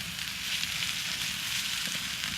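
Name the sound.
butter sizzling as it is sauteed in a pan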